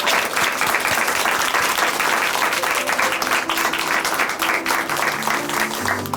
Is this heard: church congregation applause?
yes